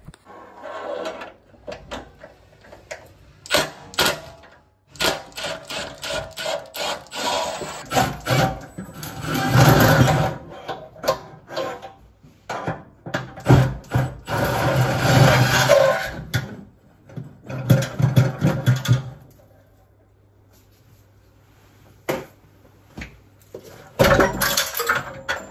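An impact driver fitted with an extension bar works screws loose from an old wall-mounted boiler, sounding in repeated loud rattling bursts separated by short pauses, along with clinks and knocks of metal parts, close by.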